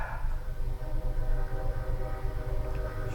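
A passing train rumbles steadily with low rolling noise and sustained tonal horn-like lines, fairly close and continuous, with no talking over it.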